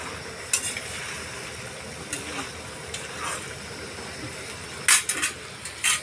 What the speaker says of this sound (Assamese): এটা নহয় দুটা দুটা কেৰাহীত সমানে বনাই আছো